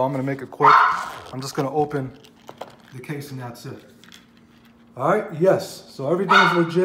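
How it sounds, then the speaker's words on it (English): Several dogs bark and yip in a home indoors, loud and nearby, mixed in with someone talking close to the mic, with barks clustered at the start and again toward the end. "Sorry about the dogs."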